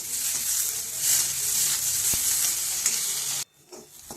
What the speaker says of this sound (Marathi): हे दाणे कढईमध्ये टाकून घ्यायचे यामध्ये थोडेसे तेल टाकायचे तेल टाकून आपल्याला हलके डाग येईपर्यंत हे तुरीचे दाणे भाजून घ्यायचे आहे